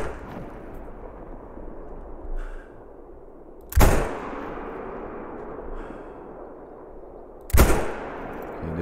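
Two sharp, loud shots from a Canning Magnum rifle in the hunting game theHunter: Call of the Wild, about four seconds apart, each with a booming tail, over a low ambient rumble and faint clicks.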